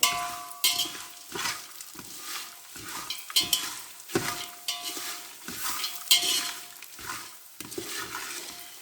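Puffed rice being stirred and roasted in oil with chilli powder and turmeric, rhythmic scraping strokes of a spoon against the pan repeating about every half second, with a light sizzle underneath.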